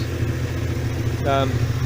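A Subaru H6 3.0 engine fitted in a VW Caravelle T3 idles warm with a steady low rumble, the revs rising and falling slightly, with a brief higher mechanical whine near the end.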